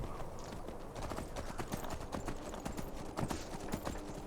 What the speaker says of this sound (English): Glad we have the horse to help us get out of here just a little bit faster.